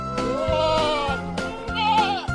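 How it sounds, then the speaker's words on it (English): A baby goat (kid) bleats in a few quavering, wavering calls, close and clear with no talking. "Just like a tiny goat."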